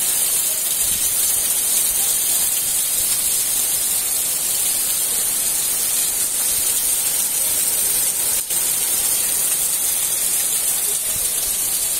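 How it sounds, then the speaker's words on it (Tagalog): Heavy rain pours down on a humid morning, a loud, steady, close hiss of drops on surfaces that runs unbroken throughout. "Malakas ang ulan."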